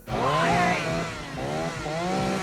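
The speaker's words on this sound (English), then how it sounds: "we hear the A1 sound of a chainsaw" A chainsaw roars in a horror film scene from The Texas Chain Saw Massacre, loud and close, its engine pitch rising and falling in revving surges that run unbroken throughout.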